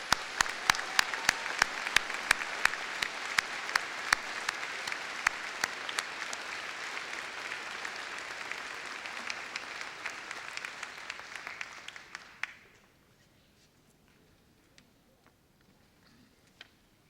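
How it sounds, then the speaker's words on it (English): A convocation audience applauds the graduating UPEI class of 2017, a steady, dense roll of clapping with sharp individual claps standing out, sustained for about twelve seconds before cutting off to near silence with a few stray claps. "please join me one more time in applauding the UPEI class of"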